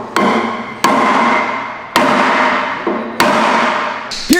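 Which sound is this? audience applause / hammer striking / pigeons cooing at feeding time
hammer striking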